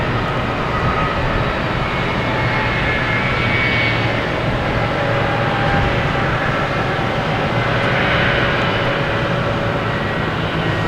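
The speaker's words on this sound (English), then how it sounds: "We have one that just took off of JetBlue heading to London, the A321 Neo." A JetBlue Airbus A321neo climbs out after takeoff from Boston Logan, its broad jet roar steady and fairly loud, swelling slightly in waves with no voices.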